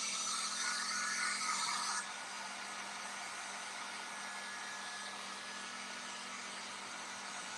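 A handheld heat or hair dryer blows on a craft piece, a farmhouse platter being painted, producing a steady close-up whoosh with a slight drop in level after about two seconds, then continuing evenly.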